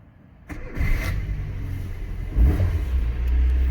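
A Rover 214/216 hatchback engine cranks and catches after a half-second pause, settling into a steady mid-pitched run with a brief rise in revs near the end, close and alone with no talking.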